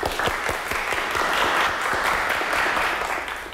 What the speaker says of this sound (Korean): 오늘 참석해주신 두 분을 위해서 감사의 박수 부탁드릴게요